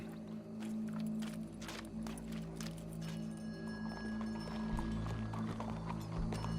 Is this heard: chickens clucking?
no